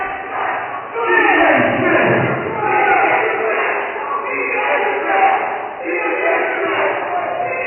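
Crowd at a Vendetta Pro Wrestling show cheering and roaring in waves, loud and sustained across the whole stretch, with muffled band-limited sound.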